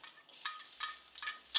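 Sliced shallots and garlic hit hot oil and fry in short, soft bursts of crackling sizzle that come and go, close by and fairly quiet.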